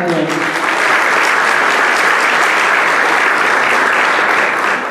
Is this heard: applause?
yes